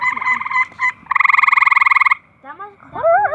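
Backyard frogs croak loudly and close by in rapid pulsing trills and short bursts, with a long steady run of rhythmic croaks in the middle, while a few voices speak faintly in the background.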